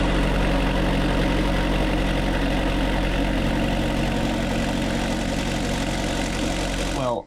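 A loud sailboat engine runs steadily at a constant idle, a dense rumbling, heavily vibrating drone that continues without pause and then cuts off abruptly at the end.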